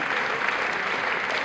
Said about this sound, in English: Let's give a big round of applause to Niyati, ma'am, please.